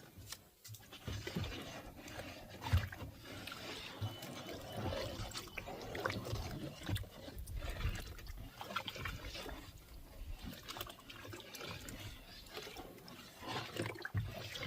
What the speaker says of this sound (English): Got a nice little stick back here I'm going to grab and give it a stir.